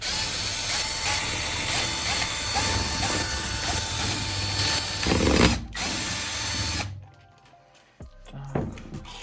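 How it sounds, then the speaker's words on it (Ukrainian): A cordless screwdriver whirs and ratchets in a sustained close burst while driving bolts into a Sym Orbit 2 150 scooter engine, then stops abruptly, leaving a few quiet clicks and handling noises. "вкручувати його шуріком"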